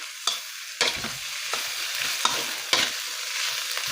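Spicy eel stir-fried with aromatics in a pan: a constant close sizzle broken by five or six sharp spatula scrapes at an irregular pace, with no voices.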